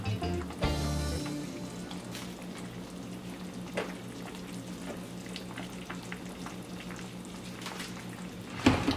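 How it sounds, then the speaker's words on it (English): Chopped onions and scallion hit hot fat in a pot of Jamaican pumpkin soup, sparking a burst of sizzling that settles into a steady, moderate fry with occasional crackles. "I'm going to add some onions."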